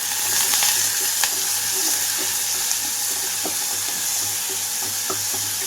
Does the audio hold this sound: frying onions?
yes